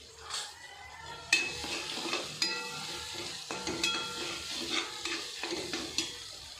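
Spice masala with salt and turmeric, fried for potato chutney, is stirred in a pan. Repeated sharp spatula scrapes and taps sound over a soft, steady sizzle at moderate volume, with no talking.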